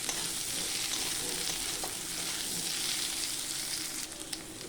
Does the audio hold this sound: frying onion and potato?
yes